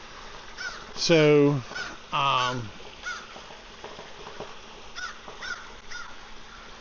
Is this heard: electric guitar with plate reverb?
no